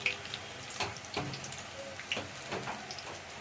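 Steady rain pattering outdoors in a rural setting, with a dense wash of falling drops broken by a few louder splashes and drips close by, no voices.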